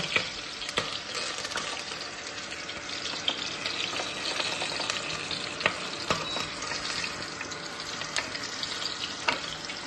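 Curry leaves crackle and spit in hot oil alongside chillies, a continuous sizzling hiss peppered with sharp pops and stirring scrapes, moderately quiet and close, no voices.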